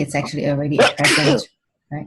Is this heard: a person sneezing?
yes